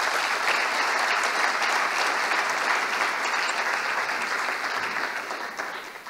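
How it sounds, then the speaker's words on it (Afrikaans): Audience applause at a school assembly at Hoërskool Durbanville, a dense, sustained clapping from a large crowd that stays loud throughout and only slightly tapers toward the end. "ons kan 'n waarderende applous gee"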